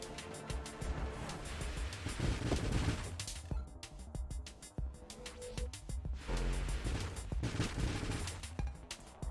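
Rapid gunfire from a ship in the space shooter Nova Drift, a dense, continuous clatter of quick shots with heavy booms underneath, loud and sustained throughout with no talking.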